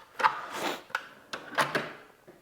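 A drawer in a tool storage cabinet slides open with a few short scraping, rattling clicks and knocks as the contents shift, close and moderately loud, no voices.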